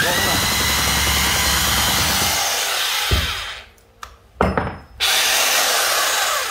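A 220V electric drill set to wood drilling runs with a loud, steady high whine for about three seconds, then cuts out, followed by a couple of short bursts as it restarts before running steadily again.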